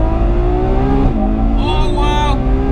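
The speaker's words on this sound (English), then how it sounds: "I'm sure you can hear those gear shifts, they're explosive." A Ferrari 812 Superfast V12 revs loud and close at Fiorano, its pitch climbing, then dips sharply at an explosive gear change and climbs again with a whining, buzzy edge; a voice sits underneath.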